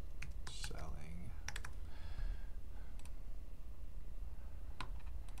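Keys on a computer keyboard clatter in quick, scattered bursts of clicks, close and fairly soft, with a faint murmur of speech underneath.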